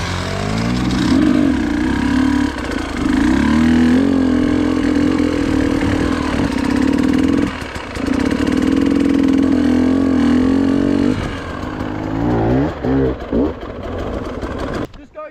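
Dirt bike engine running close by on a muddy training ride, a buzzy steady drone that dips briefly and then fades toward the end, with people talking over it.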